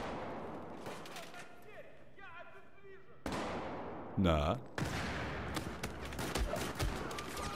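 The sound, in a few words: gunfire in the video game Battlefield 4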